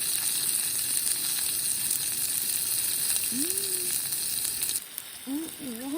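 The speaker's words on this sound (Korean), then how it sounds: "이 자글자글 소리 찍어야지" Food sizzling in a pan at an autumn campsite, a steady close crackle that goes on throughout, with brief vocal sounds and a short squeak near the end.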